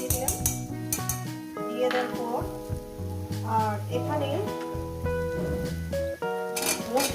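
Spice paste sizzles in a pan while egg curry cooks, a soft continuous frying hiss sitting under louder background music with melodic tones.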